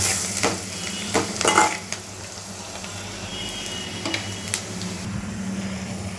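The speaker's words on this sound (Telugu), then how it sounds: "మంచిగా ఫ్రై చేసి" Beaten eggs frying in a pan with coriander powder and garam masala give a steady, soft sizzle, broken by a few scraping stirs and clinks of a utensil against the pan.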